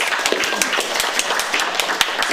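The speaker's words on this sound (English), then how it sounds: "Round of applause." Lively applause from an audience at an innovation festival greets a speaker as he comes up, many hands clapping together in a steady, fairly close patter.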